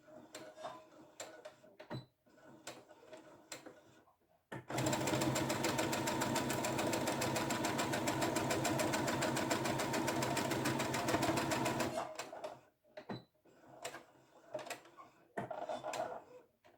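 A sewing machine stitches a fabric pouch in one loud, continuous run of rapid mechanical needle strokes lasting about seven seconds, framed by quieter handling clicks and rustles of fabric before and after.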